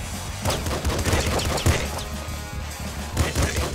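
Rapid pop gun shots from the game Nuclear Throne fire in quick irregular bursts of sharp cracks and thuds, layered over busy game noise.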